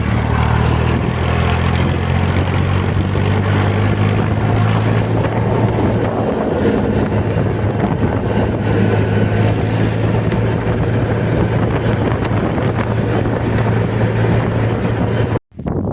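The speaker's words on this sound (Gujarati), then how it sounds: "તો ટ્રેક્ટર લઈને જઈએ જો ફૂલ સ્પીડમાં" A tractor running at full speed gives a loud, continuous low engine drone with a steady tonal hum, buffeted by heavy wind noise, before cutting off abruptly at the very end.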